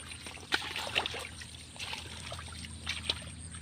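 Water flows and trickles in a small stream where fish are being watched at night, a quiet continuous babble with a few brief splashy bursts close by.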